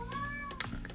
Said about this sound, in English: hello Molly, you came to say hello. Silly cat.